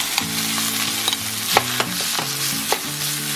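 Pork sizzles loudly in a pan while a utensil stirs it. A steady frying hiss is broken by sharp scraping knocks at irregular intervals.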